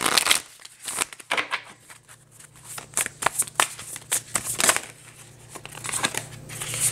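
Oracle cards from a Quantum Oracle deck being shuffled by hand during a reading, with repeated crisp riffling and slapping bursts in an uneven rhythm, close and clear, with no talking.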